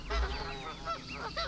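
A farm goose honks in a quick run of several nasal calls, close and fairly loud, with no talking.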